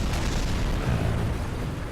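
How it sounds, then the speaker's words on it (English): Explosions in the Kerbal Space Program video game make a dense, booming rumble that holds steady and then eases slightly toward the end, with no voices over it. "We can hear the explosions behind us."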